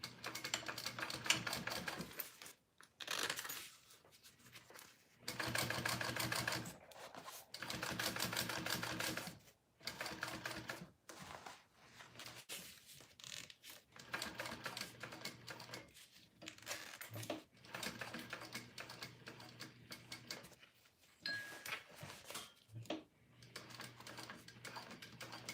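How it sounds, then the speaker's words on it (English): A sewing machine stitches around a pocket on a garment, its needle running in fast steady bursts of several seconds each, separated by short pauses, close and fairly quiet, with no talking. "let's sew around that, and then we'll finish off the pocket."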